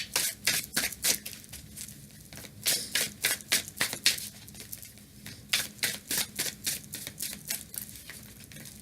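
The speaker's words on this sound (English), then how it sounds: "Give that deck a good shuffle." Close, rhythmic papery flicking and tapping as a deck of tarot cards is shuffled by hand, repeated bursts with short pauses, no voices.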